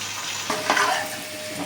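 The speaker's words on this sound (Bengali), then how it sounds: "আলুগুলোকে এইভাবে উল্টে পাল্টে দু পিঠ ভালো করে ভেজে নিতে হবে।" Potato pieces fry in hot oil in a kadai and get turned over. A steady, close sizzle runs throughout, with a couple of soft stirring knocks partway through. No one speaks.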